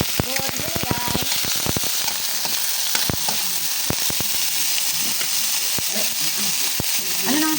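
Pakbet, a vegetable and meat dish, frying in a pan with a steady loud sizzle and hiss, sharp crackles and pops scattered throughout, and faint background voices.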